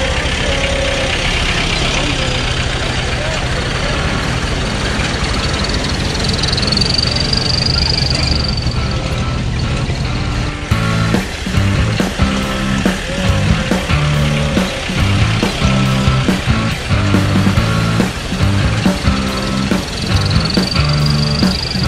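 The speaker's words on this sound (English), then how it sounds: "There'll be a small parade of vehicles going past." Small parade of vehicles passing near Mount Merapi volcano in Indonesia, steady loud engine rumble throughout, growing denser and more rhythmic partway through as the vehicles go by close.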